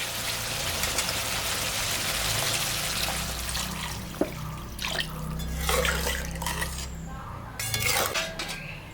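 Water poured into a pan of frying spices for a mrigal fish curry, a soft continuous splashing pour with metallic clinks of the pan and utensils, quiet and close.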